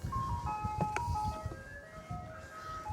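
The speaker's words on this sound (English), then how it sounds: "the ice cream truck's here" An ice cream truck plays its tinkling jingle outdoors near a plant shop, a faint melodic tune carried from a distance over low background noise.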